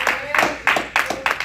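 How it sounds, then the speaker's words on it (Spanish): A church congregation claps in praise at a Spanish-language worship service, five or six loud, rhythmic bursts of hand claps close by, with a voice sounding over them. "Denle el aplauso al Señor."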